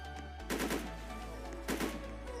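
Two short bursts of AK15 automatic gunfire in the Roblox Zombie Uprising video game, each a quick rattling volley over a steady game background hum, moderately loud and separated by a pause.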